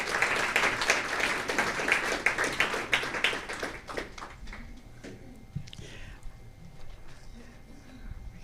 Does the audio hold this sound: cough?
no